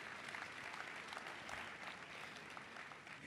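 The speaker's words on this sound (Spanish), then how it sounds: "Aplaudan a Jesucristo" A congregation claps in praise during a church service, a continuous wash of applause heard faintly and somewhat distant, steady for a few seconds.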